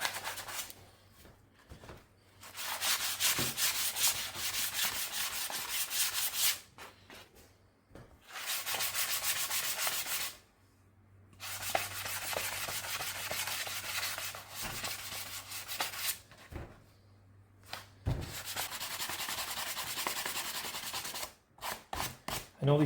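Hand sanding on the wooden body of a DIY Les Paul-style guitar kit: long stretches of steady, close scratchy rubbing, broken by a few short pauses with scattered taps and a low background hum.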